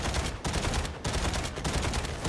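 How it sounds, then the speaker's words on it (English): Incoming mortar fire in the video game Mech Arena, a dense rapid barrage of blasts and gunfire with brief pauses between bursts, fairly quiet and without talk. "Oh no, there's two mortars coming in."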